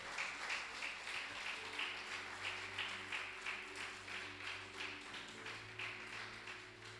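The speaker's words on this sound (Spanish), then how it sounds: "dele mejor aplauso al Señor en el nombre de Jesús" A church congregation applauds during a Spanish-language worship service, steady rhythmic clapping over a low sustained hum and faint background tones, continuous at moderate distance.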